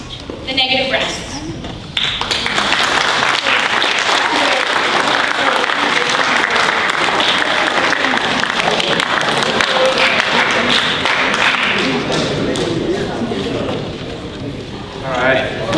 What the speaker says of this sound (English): let's give these kids another round of applause.